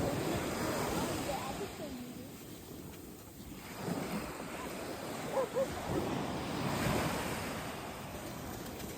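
Ocean surf washes up on a dog beach in steady, broad rushes of white noise, with wind buffeting the microphone and a brief lull midway before the waves build again; voices talk over it.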